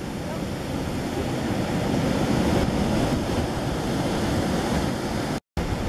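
Steady, loud roar of ocean surf breaking at a Bali surf beach during surfing lessons, a continuous wash of waves and wind noise with no distinct breaks until a brief cut near the end.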